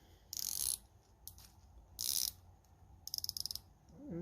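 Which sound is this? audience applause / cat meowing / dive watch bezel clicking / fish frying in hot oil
dive watch bezel clicking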